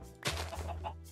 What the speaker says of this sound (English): here's some chickens